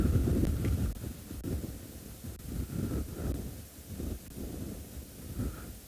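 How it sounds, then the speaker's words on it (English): Steady wind rumbling and buffeting against the microphone outdoors on a South African safari, a low continuous roar with gusts rising and falling. "if you can hear, it's a little bit windy"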